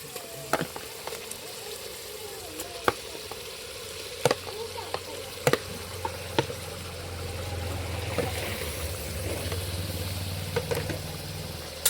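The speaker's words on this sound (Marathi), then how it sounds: "आता मी चिकन टाकते." Chicken pieces sizzle and fry in a pot over a wood-fired village stove, with a steady low crackle broken by sharp clacks of a spoon stirring against the pot.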